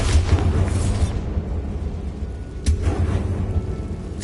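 A Bombarda spell goes off in Hogwarts Legacy, giving a low rumbling blast with a second sharp burst partway through, over a dense, continuous game rumble.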